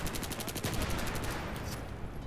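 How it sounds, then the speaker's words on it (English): Rapid automatic gunfire from a loud PDW-R in Battlefield 3, a dense run of close, sharp shots in quick rhythm that tapers off near the end. "Stop shooting him with your fucking loud-ass gun"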